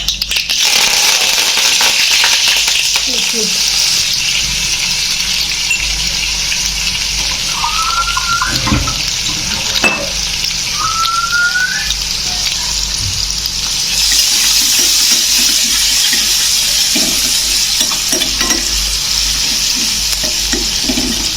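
Cumin, chili and curry leaves roast loudly in a pan for a Konkani snack, a dense, continuous hiss with occasional stirring scrapes.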